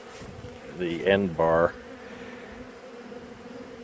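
A constant low buzzing of honey bees around hive boxes drones throughout, with someone briefly speaking over it in the middle.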